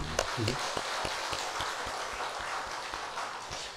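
A church congregation breaks into loud, sustained applause, a dense wash of many hands clapping close by with a few sharper individual claps, steady for several seconds.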